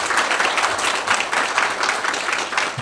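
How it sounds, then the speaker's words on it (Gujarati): Audience applause welcomes a guest at a Guru Purnima gathering in Adelaide, a steady, dense wash of clapping that holds at an even level throughout. "આપણે અમે બધા તાળીઓથી સ્વાગત કરીશું."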